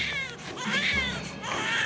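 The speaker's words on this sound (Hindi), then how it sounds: "बालक रोने की आवाज आओ है।" An infant cries loudly and close by in a home setting, with wavering, rising wails in two bursts and a short catch of breath between them.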